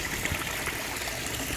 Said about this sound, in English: But I just dribble the water in slowly.